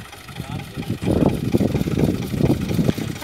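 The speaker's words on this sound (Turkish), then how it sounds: "Evet, traktöre biniyoruz." Tractor engine running on a tobacco farm, a low rumbling drone with a pulsing mid-range throb, close and steady throughout, with children and an adult talking over it.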